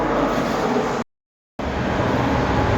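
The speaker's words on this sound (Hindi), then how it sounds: "हमारी ट्रेन लगाई जा रही है और आपको उसका लोकोमोटिव दिखाते हैं।" Odisha Sampark Kranti Express being brought in to a station platform: a steady, loud rumbling roar that cuts out for about half a second and then resumes at the same level.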